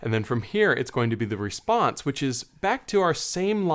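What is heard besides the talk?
No everyday noise stands out behind the speech.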